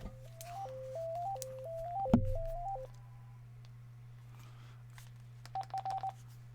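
A phone line plays a rapid run of stepped DTMF dialing tones over a steady low hum, then falls quiet before a short burst of repeated beeps near the end.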